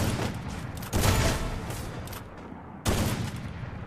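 Gunfire in a competitive tournament video game match: two loud, sharp shot onsets about two seconds apart, each followed by a long decaying tail, with no talk over them.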